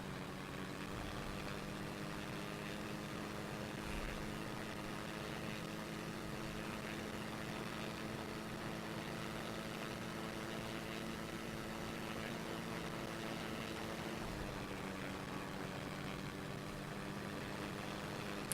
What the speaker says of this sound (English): Is the sound too loud on the engine